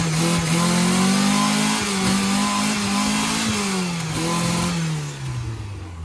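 A 1991 Mazda Miata engine revs hard and steady close by, its pitch rising and holding through several seconds before easing back down to a lower idle near the end.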